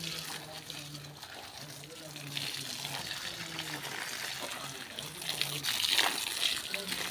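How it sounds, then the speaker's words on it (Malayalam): Water is poured onto coconut husk packed around a garden plant, giving a continuous splashing trickle that swells into a heavier gush near the end, with a person talking over the pouring throughout. "ഇതുപോലെ ഇങ്ങനെ ഫുള്ളായിട്ടൊന്ന് നനച്ചു കൊടുക്കണം"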